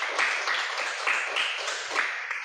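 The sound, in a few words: class applauding a classmate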